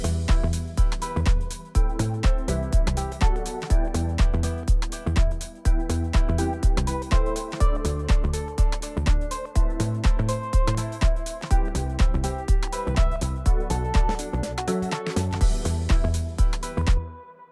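Groovy synth melody played over chords and a bassline, a loud, dense and steady rhythmic loop with punchy repeating hits, with no voices.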